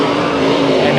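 Race cars roaring through a heat race at Bakersfield Speedway, including a 5L late model machine, a loud continuous engine drone held steady across a brief moment with no voice heard.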